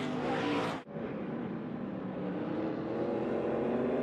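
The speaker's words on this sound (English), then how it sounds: "And look at this gaggle of race cars." Race cars howl past at Sonoma during the 2023 ARCA Menards Series West General Tire 200, a loud high-pitched engine roar that drops briefly as one passes, then a dense pack keeps screaming by.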